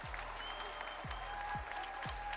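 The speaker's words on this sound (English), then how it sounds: "we got a little bit of round of applause there" An audience at the FNCS Global Championship applauds continuously, a dense patter of clapping hands heard from a moderate distance, with a few low thumps underneath.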